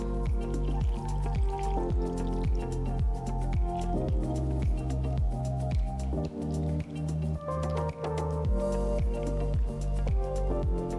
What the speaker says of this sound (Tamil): ஸோ இப்போ இதில் இன்னும் ஒரு 1/2 கப் தண்ணி ஊற்றி மிக்ஸ் பண்ணலாம்.